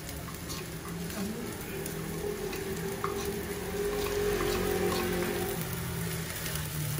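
Coriander frying with cooked garlic in a pan gives a close, steady sizzle with crackling pops and some stirring, holding fairly even and swelling slightly toward the end.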